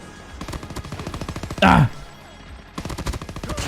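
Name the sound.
PPSh-41 submachine gun firing in a video game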